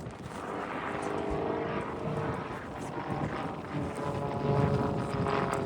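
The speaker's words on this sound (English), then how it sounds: "another wing over, a combined pitching and rolling manoeuvre used to turn the flight path to 180 degrees" An aerobatic propeller airplane flies a wing over at an outdoor air and country show, its engine a distant, wavering drone that rises and falls in loudness throughout, with wind and faint background noise.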